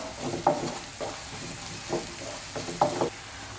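Spices being stirred into egg bhurji frying in a pan, a soft steady sizzle with intermittent scraping strokes of a spoon, a few louder stirs standing out, no voices.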